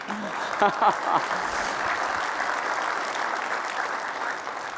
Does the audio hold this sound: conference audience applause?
yes